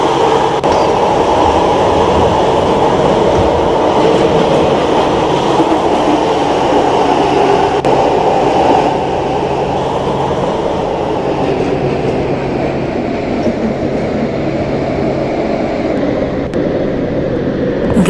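Siemens metro train on Singapore's SMRT line running through a dark tunnel, a loud, steady rumble and roar with faint rail clatter and a low motor hum, unbroken throughout.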